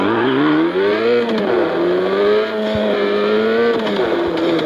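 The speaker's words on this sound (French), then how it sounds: "ils ont reproduit le petit son quand elle change les vitesses." A revving car engine in a video game whines loudly, its pitch rising and dipping with a quick click-like break as the gear changes mid-run.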